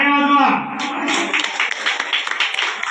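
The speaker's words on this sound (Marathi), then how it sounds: "टाळ्या वाजवा" Applause breaks out at a tribal village branch-inauguration event in Shinganwadi, Maharashtra, a dense patter of many hands clapping after a spoken prize announcement, continuing steadily and fairly close.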